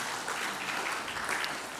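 A church congregation applauding during a Christmas Sunday worship service in Oakland, a steady, dense wash of clapping filling the room for a couple of seconds without pause.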